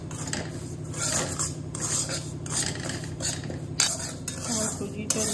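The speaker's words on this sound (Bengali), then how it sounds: "আমার সুজিটা নাড়া হয়ে গেছে" Semolina stirred in a metal pan, a spoon scraping and knocking against the pan in a repeated rhythm over a low, soft sizzle, close up and without talking.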